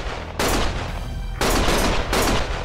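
Gunfire in a Lost Judgment cutscene comes as three loud, dense bursts of rapid shots over nearly three seconds, with a steady low background rumble underneath.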